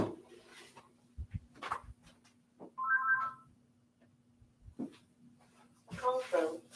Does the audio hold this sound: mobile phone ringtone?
yes